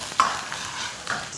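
Scallion, garlic and ham are stir-fried in hot oil in a wok, giving a short, soft sizzle with a few scraping stirs, close and quiet, with no talking.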